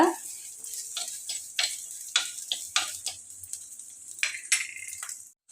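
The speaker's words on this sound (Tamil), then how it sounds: "எண்ணெய் விட்டு நாம் எடுத்துருக்கிற சின்ன வெங்காயம் கட் பண்ணி சேர்த்து வதக்கிக்கலாம்" Small shallots sautéing in hot oil for a brinjal gravy, with a soft steady sizzle broken by close, repeated ticking scrapes of a spatula against the pan.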